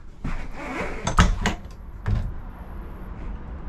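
An RV back door on a 2024 Forest River Sandpiper 4002FB opens with a latch clack and a couple of sharp thuds, followed by faint rustling, heard close and without talk.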